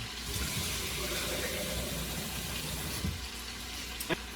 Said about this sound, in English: We're gonna add more water.